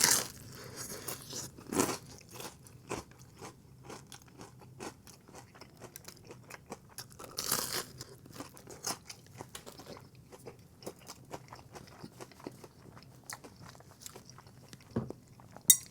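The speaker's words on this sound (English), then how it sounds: "the crisp on this and the crunch is like nothing else I've ever had for a pizza" Crunchy bites and chewing on deep fried Little Caesars pizza, close and crisp, with sharp crackly bursts near the start and middle and quieter chewing between, no talking.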